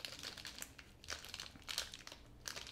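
The LG G Watch charger being unpacked, with close, quiet plastic and paper packaging crinkling and crumpling in irregular bursts, no voices.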